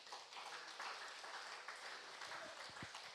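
A church congregation claps during a Sunday afternoon service, a faint, steady wash of applause with a few louder low thumps near the end.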